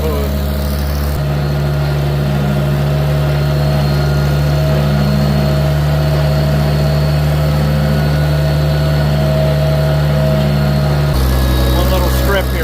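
Farmall 756 tractor engine running at about half throttle in high first, direct drive, while cultimulching a field: a loud, steady low drone with a constant rumble throughout, heard close from the seat, no voices.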